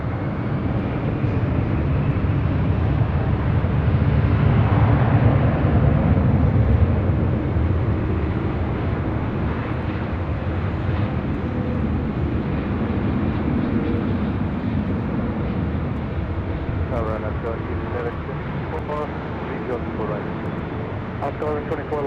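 An airliner taking off from runway 24 left at LAX roars with a broad, steady engine rush that swells and then holds, heard at a distance, while radio chatter comes and goes over it.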